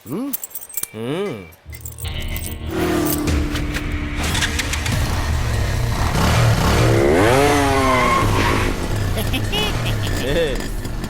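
An old antique motorcycle's engine revs in rising and falling sweeps, loud and close, buzzing steadily under and between spoken dialogue.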